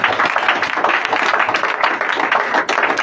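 A church congregation claps together in dense, continuous applause acclaiming the Lord, close and lively for a few seconds with no clear voices.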